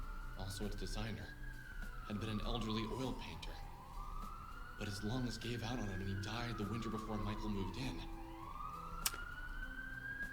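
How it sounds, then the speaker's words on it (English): Loud police sirens outside rise and fall in long wailing sweeps behind someone narrating over a video game, the siren steady and prominent under the talk. "there's some very loud police sirens outside"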